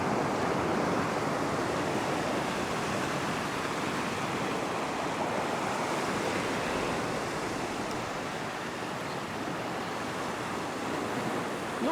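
Ocean waves washing over rocks along a winter rock-fishing shore, a continuous broad surging wash with wind buffeting the microphone, fairly quiet and unbroken, with no voices.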